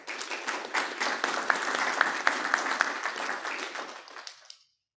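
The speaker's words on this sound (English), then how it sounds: "a round of applause for him as well" An audience at an association meeting applauds, a steady burst of clapping lasting several seconds before cutting off, moderately loud and without talk.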